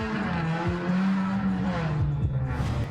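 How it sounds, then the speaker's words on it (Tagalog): A yellow car drag racing on Commonwealth Avenue in Quezon City at 2 a.m. speeds off suddenly, its engine revving hard in rising and falling bursts with a tire squeal, recorded close by a dashcam. "makikita ang biglang pagharurot ng dilaw na kotse"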